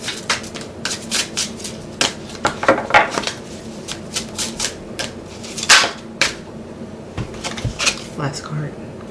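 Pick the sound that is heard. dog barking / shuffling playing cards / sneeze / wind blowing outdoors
shuffling playing cards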